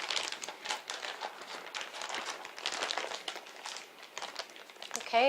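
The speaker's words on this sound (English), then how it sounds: "zip it up" A Ziploc bag holding chicken breasts in cilantro jerk marinade crinkles and rustles as it is zipped shut and squeezed to push the air out, close and busy, with a short tonal blip at the end.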